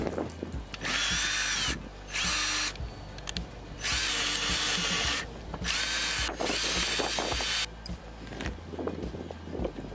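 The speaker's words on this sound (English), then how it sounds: "Let's see if we could drill both of these at once." A power drill boring holes for U-bolts, running in several loud whirring bursts of about a second or two each, separated by brief pauses with small clicks and handling noise.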